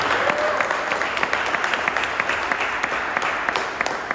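An audience bursts into applause at an award event, a dense, lively wash of many hands clapping at moderate loudness that holds steady throughout.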